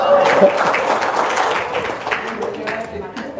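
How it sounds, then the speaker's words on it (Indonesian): A small audience at a motivational talk claps briefly in a loose patter, with voices murmuring underneath. "Tepuk tangan dong."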